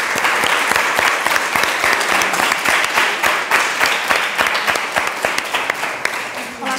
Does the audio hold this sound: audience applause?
yes